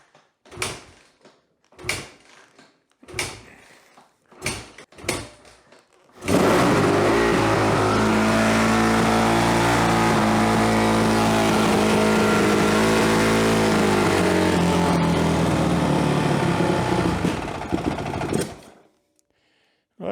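A small engine sits idle after its carburetor idle adjustment, with a few separate knocks and clatters, then it fires and runs at a loud steady high idle for about twelve seconds before cutting out.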